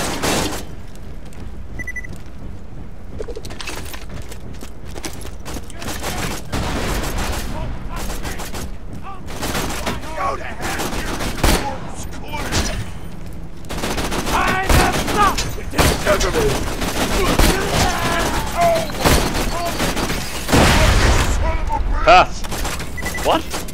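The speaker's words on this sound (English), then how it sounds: "I'm glad I have an explosive weapon." Explosive weapon gunfire in Borderlands 2 bursts repeatedly throughout, with heavy booming blasts and rapid volleys, loud and dense, mixed with game noise and occasional voices.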